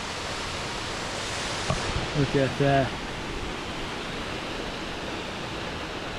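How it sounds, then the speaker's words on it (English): Steady broadband rushing of a waterfall on Mount Timpanogos fills the whole clip, with a person briefly speaking over it partway through. "we got our first waterfall"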